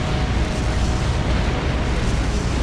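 Continuous roaring rumble of airstrike explosions in Trails of Cold Steel, a dense, loud, unbroken wash of blasts with no talking.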